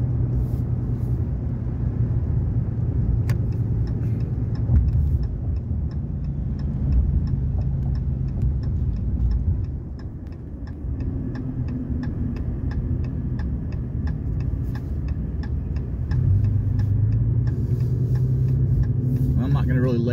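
A 2021 Ram 3500 HO diesel truck cruising in town, heard from inside the cab as a steady low engine and road rumble with a faint ticking, while a person talks throughout.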